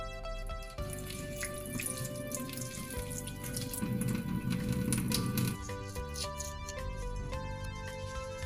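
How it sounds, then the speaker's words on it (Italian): Fresh sardines rinsed under a running kitchen tap, the steady stream of water splashing continuously over the fish in a sink, with a tonal musical backdrop running throughout. "Sciacquiamo le sarde sotto acqua corrente"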